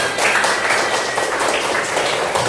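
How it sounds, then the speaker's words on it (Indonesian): A class of pupils applauding in a lesson: dense, steady clapping from many hands fills the whole stretch at moderate loudness, with no talk on top. "Tepuk tangan kita semua"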